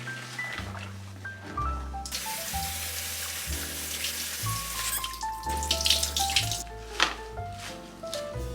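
Tap water runs over vegetables being washed for meal prep in a sink, a steady splashing gush under background music with pitched notes throughout.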